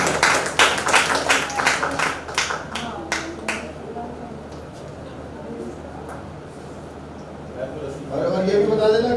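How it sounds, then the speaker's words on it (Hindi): At a Haryanvi comedy poetry show, a small audience claps in a quick run of sharp individual claps that dies out after a few seconds, leaving quiet room noise before a voice comes in near the end. "तालियां कर बजा दो।"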